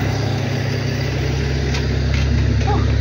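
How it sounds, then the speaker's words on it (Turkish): Tractor passing outdoors near a house, a loud low rumbling engine drone holding steady throughout with a slight rise near the end. "Traktör de geçti."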